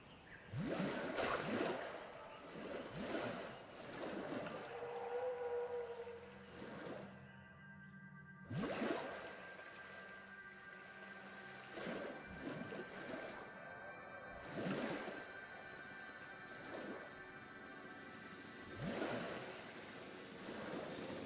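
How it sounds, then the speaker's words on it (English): Water rushing into a dug trench inside a dinosaur enclosure in Jurassic World Evolution 2, a steady washing, surf-like swell with repeated surging bursts over a low game-music drone. "So we can then take said trench and fill it"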